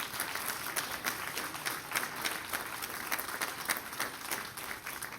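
An audience at a school district board meeting applauds for student recognitions, a steady, fairly faint wash of clapping from many hands lasting several seconds with no talk over it.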